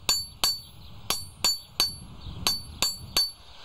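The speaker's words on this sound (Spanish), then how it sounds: "hacen con dos martillos y un trocito de vía del tren una cosa" Two hammers ring out against a short length of railway track in steady alternating blows, about nine sharp metallic clangs with bright ringing tails, close and loud.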